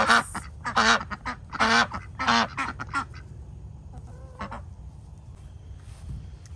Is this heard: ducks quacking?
yes